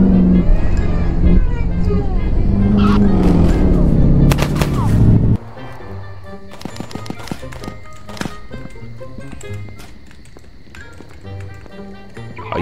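A Roblox character in The Bronx 2 fires from a car window: sharp pops cut through loud, busy game noise, then a sparse series of separate shots rings out against a quieter background.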